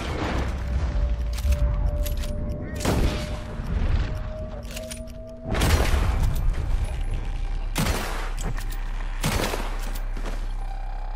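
Gunfire erupts in a Red Dead Redemption 2 shootout in Guarma, with repeated loud shots and bursts echoing in clusters across the scene over a steady background rumble, alongside game voices.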